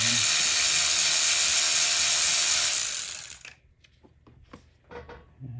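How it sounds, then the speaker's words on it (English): Work on the T30 Torx bolts of a 2013 Volkswagen GTI MK6 engine starts with a loud, continuous mechanical whir, which cuts off and is followed by sparse, close ratchet clicks and metallic taps. "Now I have access to all the T30 Torx bolts. And remove them."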